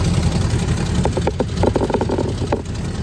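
Idling engine of a 1921 Ford Model T pickup, custom built from a sedan, a steady low rumble throughout with a run of sharp ticking pulses in the middle and another near the end, close and continuous.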